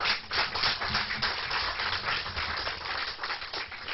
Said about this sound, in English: Don't clap.